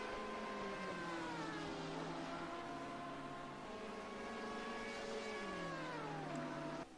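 GT3 and GTE race cars in a sim-racing endurance event at Dubai roar down the straight toward turn 1, overlapping engine notes holding steady and then dropping in pitch together as they brake, loud and continuous with no talking.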